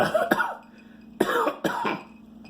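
Two pairs of muffled, close coughs, each a quick double burst, separated by a short pause and quieter breathing.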